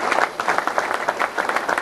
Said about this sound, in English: how about a round of applause for this guy right here?